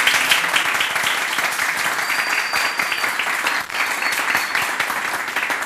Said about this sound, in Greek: πάμε λοιπόν το μεγαλύτερο χειροκρότημά μας για τον αγαπημένο